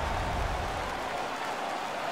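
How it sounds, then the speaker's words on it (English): The home crowd in the NHL 16 hockey game, New Jersey Devils against Washington Capitals, roars and cheers after a fight, a dense, steady wash of crowd noise throughout. "The home crowd is ecstatic."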